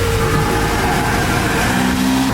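Audi RS engine swapped into a VW Caddy runs just after a cold start, a loud, close, steady idle with faint tonal whine and slight pitch shifts, no talking.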